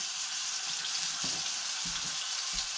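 Freshly caught pond fish fries in a pan with grapeseed oil and butter, giving a steady close hiss of sizzling with a few soft thumps as it is pressed down.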